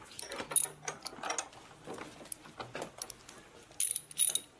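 A wrench turns the axle nut on a 1988 Harley-Davidson FXR motorcycle, producing scattered close metallic clicks and ratcheting ticks with light clanks and handling noise in a quiet garage.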